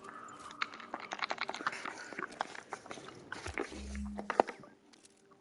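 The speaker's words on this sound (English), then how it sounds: "Sorry if you hear me chewing a lot. I'm eating pirate's booty." Crunchy puffed corn snack being chewed close to the mic, with repeated short crisp bites and mouth sounds over faint background noise.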